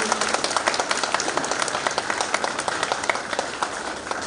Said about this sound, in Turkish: Bu biraz zayıf bir alkış oldu